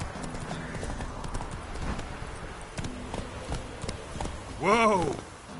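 The horse Roach gallops in The Witcher 3, its hooves clip-clopping in a steady rhythm, and near the end a loud whinny rises over them while a voice talks over the game.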